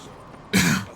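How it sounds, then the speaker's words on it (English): A single short, harsh cough into a close microphone, sudden and loud, lasting about half a second during a game stream. "Proceeds to cough into mic over"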